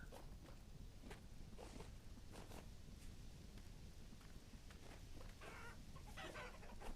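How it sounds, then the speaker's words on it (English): Chickens in a farming video game cluck in short repeated bursts over a steady background bed, fairly faint, with soft step-like noises mixed in. "Hello, chickens."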